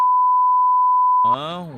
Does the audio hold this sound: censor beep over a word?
yes